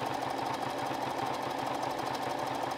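Juki DX7 computerized sewing machine running a briar stitch through four layers of fabric, a fast steady mechanical whir and rapid needle chatter, continuous and close, with no talking.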